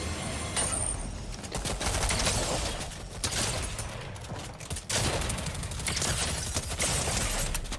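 Video game battle gunfire rattles in dense bursts of rapid shots, loud and continuous across the whole stretch with only brief dips, with no talking.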